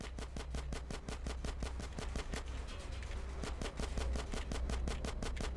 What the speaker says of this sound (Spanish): Yo le disparo a todos.